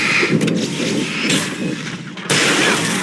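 Fireworks bursting near a stage during a fight in Alan Wake Remastered, a dense run of loud booming blasts and crackles with a brief lull before another strong burst.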